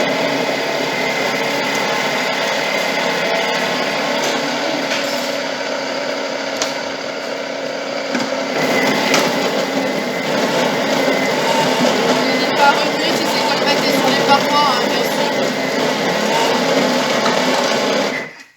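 A Thermomix runs at speed 5 in reverse mode, a steady, loud motor whir with a dense mechanical buzz that grows slightly louder partway through and then cuts off sharply at the end.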